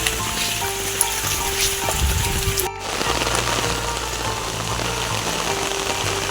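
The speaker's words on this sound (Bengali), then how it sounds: "এমন সময় বৃষ্টি নামলো" Steady rain pours down in a dense, even hiss, briefly dipping near the middle before continuing at the same level.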